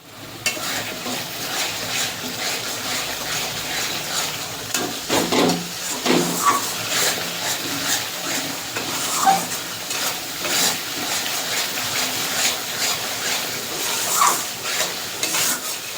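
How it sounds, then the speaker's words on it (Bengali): Spice paste for a pabda fish curry sizzles and fries in oil while being stirred, with steady frying hiss and repeated scraping, clinking strokes of a spoon against the pan, close up and without talk. "এই দেখো বন্ধুরা, কষানো হয়ে আসছে, তেল ছেড়ে দিয়েছে"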